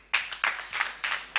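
Studio audience at a televised mugham contest clapping: a few bright bursts of applause that come in a quick, almost rhythmic pattern, close and fairly loud, with no voices.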